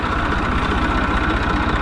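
A tractor engine works a field during ploughing, a loud, steady low rumble with a continuous throbbing pulse and no pause.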